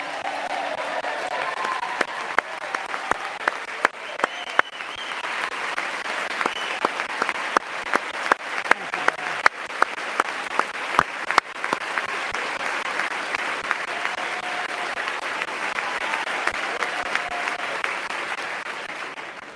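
A congress audience breaks into sustained applause in a large chamber, dense overlapping clapping that swells and holds for twenty seconds with scattered sharp individual claps standing out.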